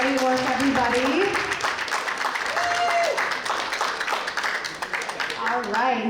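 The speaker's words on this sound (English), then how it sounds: "another round of applause for all of our finalists this year" Steady audience applause for finalists at a startup pitch night, a full, continuous clapping wash that stays loud throughout, with people talking and calling out over it.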